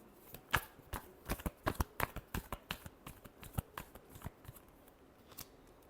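Tarot cards being shuffled in a rapid series of crisp, close riffling snaps and flicks, irregular but steady, with no voices over them.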